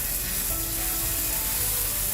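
Dosa batter sizzling on a hot cast iron pan for a potato masala egg dosa, a steady close hiss with no pauses.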